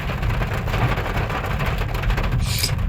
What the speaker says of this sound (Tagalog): Yung patak sa bubong namin.